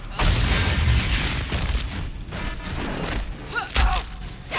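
Cartoon bombs bursting in the fighting game Mortal Kombat vs. DC Universe, a couple of loud booming thuds and pops over a busy game soundtrack with clatter between blasts.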